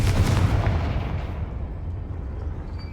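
A Confringo fire spell explodes in Hogwarts Legacy, a loud close blast that decays into a fading rumble over about three seconds.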